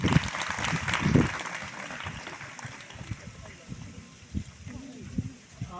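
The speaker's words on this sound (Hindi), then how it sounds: "जोरदार तालियां।" Applause from a gathered audience at a National Youth Day school event swells briefly after a student is introduced, then thins into scattered claps amid background voices and noise.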